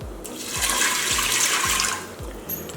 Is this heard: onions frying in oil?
no